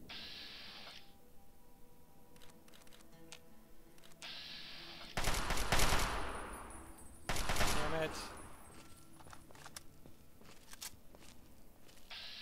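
Enclave soldier firing in Fallout 3: two loud bursts of game gunfire, each lasting about a second, stand out over a low ambient bed with scattered faint clicks and footsteps.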